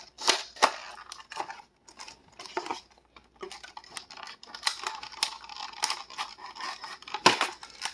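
A toy's card-back blister packaging being cut open with scissors, irregular snips and crinkling plastic crackles coming in bursts with short pauses, close and fairly clear.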